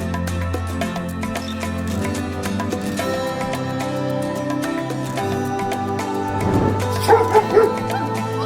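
An excited dog reunited with its owner whimpers and yips continuously, then breaks into a few sharp barks near the end, over background music.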